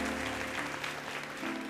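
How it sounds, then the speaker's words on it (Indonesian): A church congregation claps together during a sermon, a brief, dense, steady burst of applause filling a large room. "Kasih tepuk tangan untuk Tuhan Yesus."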